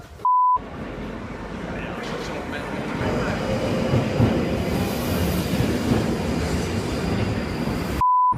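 A train rumbles steadily along the rails, growing louder midway, with a tone sounding at the start and end.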